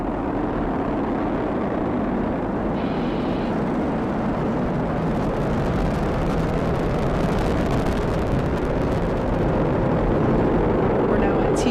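SpaceX Falcon 9 launch of the Crew-6 mission, its nine Merlin 1D first-stage engines making a continuous, distant broadband rumble and roar, heard under a steady voice.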